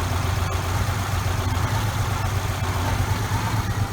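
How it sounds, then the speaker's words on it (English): A 2010 Subaru Forester 2.5 engine idles with a misfire in a workshop ahead of head gasket work: a steady, rough low rumble with a few irregular knocks, and no talking. "We got a 2010 Subaru Forester getting ready to do head gaskets, and the motor is missing today."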